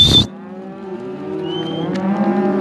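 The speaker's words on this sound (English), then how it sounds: "Hey, cows!" Cattle being driven along during a range roundup give a single long, loud, close moo that holds steady after a brief sharp noise at the start.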